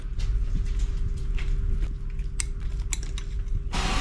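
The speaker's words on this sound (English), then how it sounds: "Then you've got to remove the centre locking nut bolt from the nut." A ratchet works the centre locking nut off the propeller of a Honda ADV 750 outboard, a close run of clicking, ticking and metallic scraping with a steady faint hum behind.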